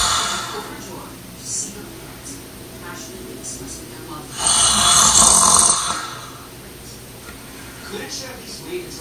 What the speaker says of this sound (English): So as you guys can see, I did snore quite a bit.